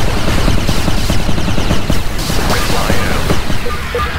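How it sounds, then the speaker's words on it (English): Rapid machine gun fire from units in the real-time strategy game 9-Bit Armies, a dense, continuous rattle of shots with scattered explosions and battle noise running throughout, fairly loud. "Machine gun engaged."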